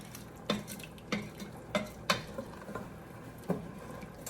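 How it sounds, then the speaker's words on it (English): Rice being scraped off the side of a pot of homemade jambalaya with tomato paste and broth, a spoon knocking and scraping the metal in sharp irregular strokes over a faint simmer, nearby and without talk. "We'll scrape all the rice off the side there."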